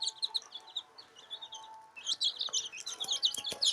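Baby chicks in a coop chirp in quick, high, repeated peeps, thin and close, growing busier and louder partway through with a few faint knocks underneath.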